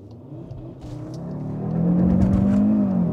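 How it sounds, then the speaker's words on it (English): Cupra Formentor VZ5 five-cylinder SUV launching hard, its engine note climbing and swelling louder as it accelerates, heard from inside the car with a steady rising drone. "Let's now launch this car again."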